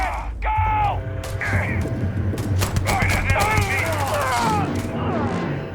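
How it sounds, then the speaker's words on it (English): Shotgun blasts in Starfield land as a cluster of sharp reports in the middle of the stretch, over a steady backdrop of game sound and voices. "shotgun and shoot in here"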